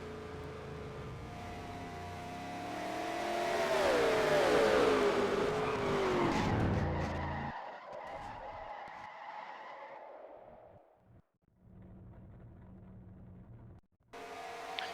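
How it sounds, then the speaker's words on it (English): Race cars in NASCAR Racing 2003 wreck in a massive pileup during green flag pit stops at a Cup Series race: loud engine roar and long screeching tire skids swelling over several seconds, then the crash fades into quieter rumbling and scattered scraping noises. "we have another massive crash during green flag pit stops"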